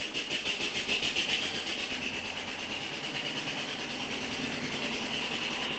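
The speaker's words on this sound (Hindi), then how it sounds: "एक डिस्टरबेंस हो रहा है, ट्रैक्टर चल रहा है यहाँ पे।" A steady, droning engine rumble with a rattling, slightly pulsing texture runs throughout, close and continuous with no voices.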